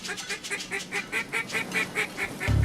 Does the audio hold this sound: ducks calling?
yes